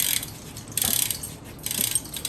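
A bicycle wheel spins freely while its disc brake is squeezed repeatedly, giving a light ticking freewheel whir broken by brief rubbing grabs of pad on rotor, close and quiet, no talking.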